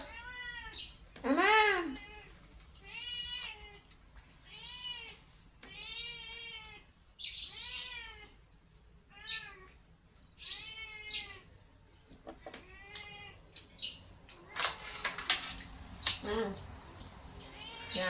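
A cat meows repeatedly, close and loud, in several separate calls, while a person talks and calls out in between.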